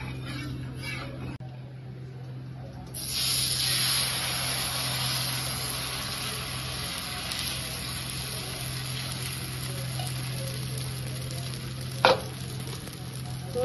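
Oil hisses in a pan as salted rice flour pitha batter goes in to fry, a steady, close sizzle that swells after a few seconds and holds, with one brief clatter near the end.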